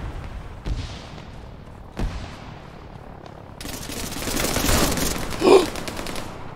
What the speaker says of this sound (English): Did I not just shoot him in the leg with a 12 gauge?